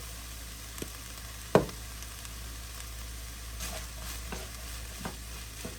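Garlic sizzling in a pan for taco soup, a soft steady frying hiss close by, with a sharp clatter early on and a few small ticks over the low sizzle.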